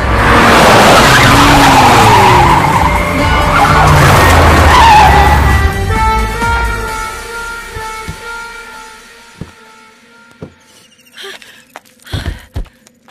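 A car with no working brakes screeches loudly as its tires skid for about five seconds. The skid then fades out, leaving quieter clatter and a few sharp knocks.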